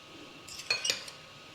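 A knife scooping from a jar while tuna salad is being made: a quick cluster of light metallic clinks and scrapes lasting under a second, close and fairly quiet against a hushed kitchen background.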